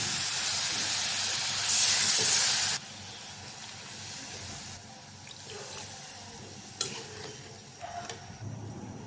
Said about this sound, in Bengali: কষানো হয়ে গেছে, এখন পানি দিয়ে দিব।